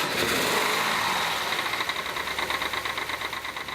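A boat's port-side 454 Big Block marine engine turns over and settles into a rough idle. It runs close and loud, with a steady mechanical chatter and rhythmic pulsing in the running note.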